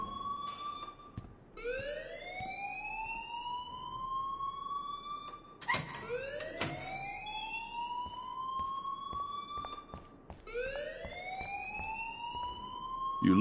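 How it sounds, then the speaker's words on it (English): A loud electronic alarm in the video game Life is Strange wails in repeated rising sweeps, each climbing and holding before restarting, with sharp clicks between cycles. "please turn off that alarm since that's your job"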